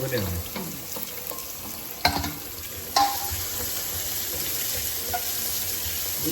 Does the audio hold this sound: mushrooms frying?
yes